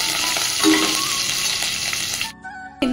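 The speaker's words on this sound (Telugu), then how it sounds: "పండు మిర్చి అండ్ వెల్లుల్లి, కరివేపాకు ఎక్కువ వేసుకుంటున్నా చారు కాబట్టి." Red chillies, garlic and curry leaves frying in hot oil for an avakaya pappu charu: a loud, close, continuous sizzle with stirring, breaking off briefly near the end before resuming.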